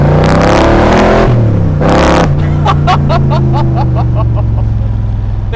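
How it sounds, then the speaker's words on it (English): A 1965 Shelby Cobra's engine roars loud and close under hard acceleration, rising in pitch through a gear, dropping at the shift, then climbing again with a crackling, pulsing exhaust note. "the second you do decide to get into the power band and mash the gas, the levels of acceleration are epic"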